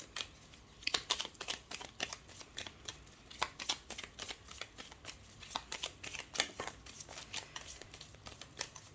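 Oracle cards are shuffled before a 13-card reading, a quiet, close, rapid run of papery riffles and flicks repeating steadily without talk.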